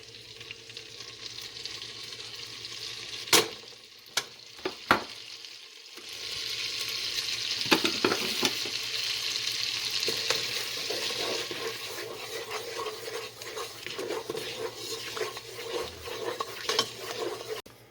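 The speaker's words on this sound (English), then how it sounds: "butter is melting. Turmeric is nice and dissolved in there" Butter and turmeric fry in a pot for curry cow foot, a steady close sizzle broken by several sharp utensil clinks and stirring scrapes, with no talking.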